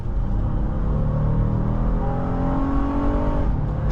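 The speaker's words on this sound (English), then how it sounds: "You can really hear the VTEC crossover noise in this generation of the MDX." A 2015 Acura MDX Tech SH-AWD engine pulling hard under acceleration, a loud, close, continuous intake roar with rising harmonic tones as the VTEC crossover comes in, with no talking.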